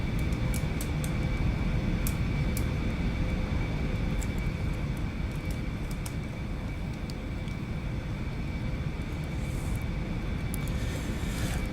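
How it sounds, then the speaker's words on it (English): General aviation aircraft taxiing in the X-Plane flight simulator, a steady low engine drone with a constant hum running unbroken throughout, fairly loud and alone with no talk. "Let's taxi forward a little bit so we can get the plane turned."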